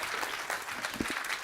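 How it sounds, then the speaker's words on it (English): Audience applause at a transatlantic policy forum, greeting a guest speaker, with a brief, fairly quiet wash of clapping from a crowd and a couple of louder claps standing out near the end. "Give him a round of applause"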